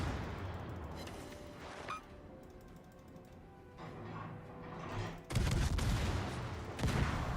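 Stern guns of a ship firing in a naval battle game, a couple of loud booming salvos breaking through a low humming background, no talk.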